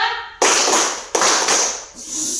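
Students standing in a classroom clap in unison as part of a counted clapping routine, three sharp group claps spaced roughly 0.7 seconds apart, loud and close with short decays.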